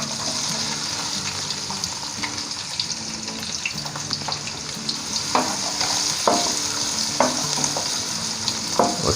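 Chopped onions sizzle and fry in ginger garlic paste for a chicken lapeta, with steady crackling and scattered stirring scrapes of a spoon against the pan, close and moderately loud with no talking.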